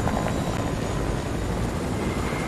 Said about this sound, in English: I got a chopper.